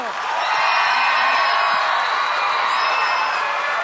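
Fans at a singing contest cheer and scream steadily, a loud, sustained crowd roar with high shrill whoops that holds for several seconds.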